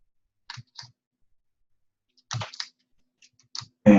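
Computer keyboard keys clack in a few sparse, sharp presses, single taps and a quick double, close and fairly quiet, separated by silence, with one louder burst at the end.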